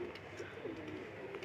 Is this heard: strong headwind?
no